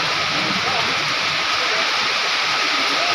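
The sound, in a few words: heavy rain storm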